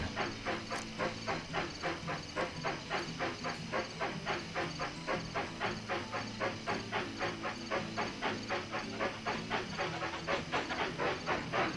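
Trains chug along in Railroad Tycoon 3, a fast, even steam-locomotive puffing beat with hiss that repeats steadily throughout, moderately quiet and with no talk over it.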